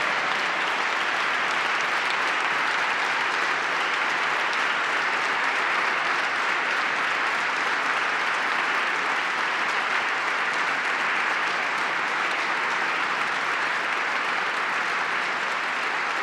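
Sustained bipartisan applause fills a legislative chamber during a governor's budget address, a dense wash of clapping that holds steady and even the whole way through.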